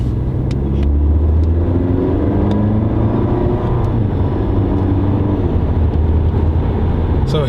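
Audi A5 Sportback TFSI Quattro engine pulling under part throttle, a steady low drone and rumble from inside the cabin, constant and fairly loud with faint ticking above.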